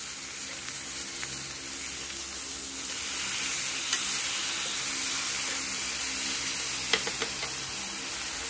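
Lemon garlic ribeye steak strips sizzling loudly in a frying pan after being flipped, a dense continuous hiss with occasional sharp pops and spatters, close and alone.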